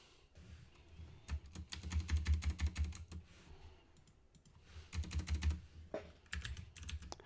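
Typing on a computer keyboard while entering a T-shirt design phrase, heard as close, brisk bursts of key clicks in two main runs with brief pauses between them, with no talking.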